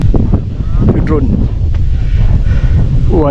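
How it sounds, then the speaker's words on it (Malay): Strong wind roars across the microphone in a continuous loud buffeting, with people talking at a crater lake on a volcanic hillside. "Angin kuat."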